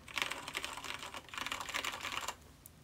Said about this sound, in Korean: 체리 갈축 스위치는 다른 넌클릭 스위치에 비해서 걸림이 상당히 약한 편입니다